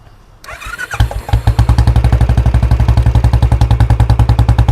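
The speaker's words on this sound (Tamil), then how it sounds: "இந்த வண்டியோட இன்ஜின் சவுண்ட் ஸ்டார்ட் பண்ணி காமிக்கிறேன்" A 2022 Royal Enfield Bullet 350 single-cylinder motorcycle cranks and fires up, then settles into a loud, close, even thumping idle with a steady pulsing beat.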